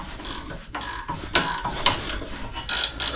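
A ratchet wrench with a 14mm socket loosens a bolt, giving repeated short clicking ratchet strokes at a steady pace, close and fairly quiet.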